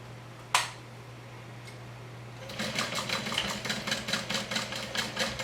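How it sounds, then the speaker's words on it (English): A sewing machine runs a 3/8-inch seam through several layers of vinyl, stitching at a steady, moderate pace with a rapid rhythmic patter after a brief click and pause, close and fairly clear. "now I'm going to stitch from one end to the other"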